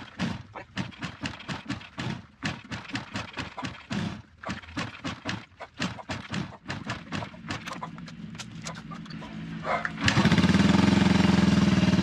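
A motorcycle engine with a carburetor is cranked over and over in rapid, uneven bursts as it struggles to start, then finally catches and settles into a loud, steady running drone for the last couple of seconds.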